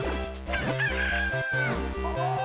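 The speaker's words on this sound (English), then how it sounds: "I was not expecting the chickens to attack me." Chickens cluck and crow in Zelda: The Minish Cap, a loud rooster-like call stretching across the middle over a bouncy, repeating chiptune music beat.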